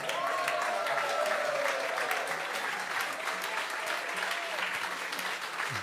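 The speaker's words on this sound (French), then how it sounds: "Les applaudissements jusqu'au bout." Sustained applause from an audience at a real estate talk, dense and even clapping that carries on for several seconds at moderate volume.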